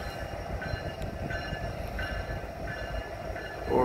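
A Norfolk Southern freight train led by an SD70ACE locomotive, with one EMD and two GE units, rumbles past at a station stop with a steady low engine drone, fairly distant and even, swelling slightly at the end.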